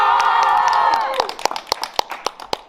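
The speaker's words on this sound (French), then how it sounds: "un tonnerre d'applaudissements pour les élèves de la radio" An audience at a school radio event applauds the students, a thick burst of clapping and cheering that breaks into scattered individual claps as it dies down, with voices mixed in.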